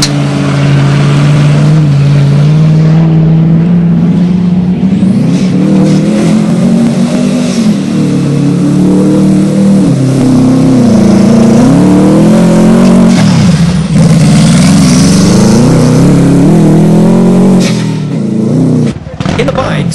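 A Subaru rally car engine races hard through a cross-country rally stage in Kenya, loud and close, its pitch rising and falling continuously with revving and gear changes while a commentator talks over it.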